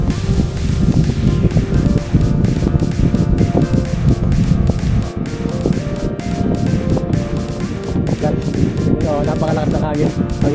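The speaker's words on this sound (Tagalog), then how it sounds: "Pero napakalakas ng hangin Sobra." Strong wind buffets the microphone at a beach campsite at Atanacia Beach Park during outdoor grilling, a loud, continuous low rumble with gusty surges under people talking.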